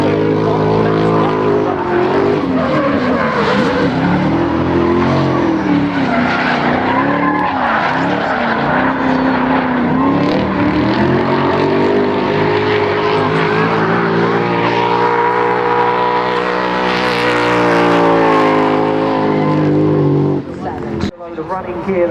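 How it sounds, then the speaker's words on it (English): A V8-powered BMW M3 drift car at a British Drift Championship round at Three Sisters screams at sustained high revs with tyre squeal, loud and continuous, under constant commentary. "Check out that BMW M3. Very nice entry."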